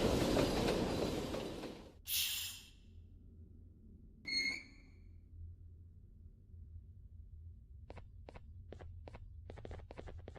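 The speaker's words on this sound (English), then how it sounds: "This train should take us straight to the surgeon's office." A train rolling along the rails in the Garten of Banban video game, a faint steady low rumble broken by a few brief hissing bursts and then a run of sharp rhythmic clacks from the wheels near the end.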